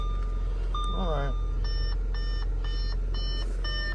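Warning chime in a 2018 BMW 530e hybrid sounds repeatedly, evenly spaced electronic tones over a steady low hum, with a brief chirp near the start.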